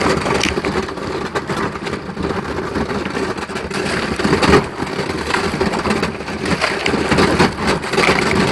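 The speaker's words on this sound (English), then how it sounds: "Looks like we get to do a little ice breaking." A kayak breaks through a big sheet of river ice on the Ohio River, with steady crunching, cracking and grinding close up and loud throughout, and no talk.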